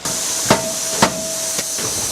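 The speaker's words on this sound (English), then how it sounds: "it's a hammer press. So that's a hammer that actually comes down like a hammer and actually pounds it 3 times into roughly the shape of a golf club." A forging hammer press pounds a mild carbon steel golf club billet three times at half-second intervals, each heavy strike loud and close over a continuous steamy hiss and a steady tonal hum.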